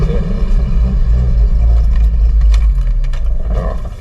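A Toyota Dyna ramp truck engine running after a repaired stuck thermostat, a steady close low rumble with a few rev swells and light rattles, no talk over it.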